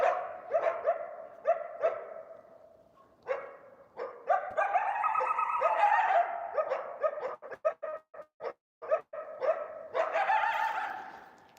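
Wolves bark and yip at close range in a busy run of overlapping calls, sharp repeated barks giving way to a longer rising howl-like yelp before more barking, with no talking.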